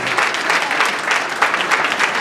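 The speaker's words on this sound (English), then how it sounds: "So I'd like you to give a round of applause to my mom and two uncles." Dense, steady applause from a crowd, many hands clapping together without pause for a couple of seconds.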